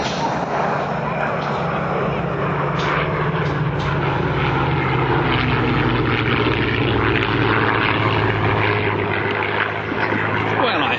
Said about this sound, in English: He is now flying a P51 Mustang behind the B-17.